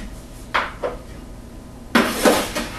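A few short knocks and clunks of a jar being set into a water distiller, followed by a louder scraping clatter near the end.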